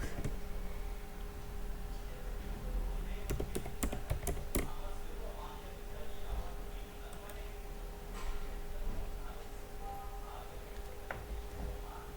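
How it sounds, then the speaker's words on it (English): Fingers type on a computer keyboard, entering company information into a Salesforce setup search box, with a quick burst of close, crisp key clicks in the middle of a steady hum and sparser taps later. "type company information in the quick find box."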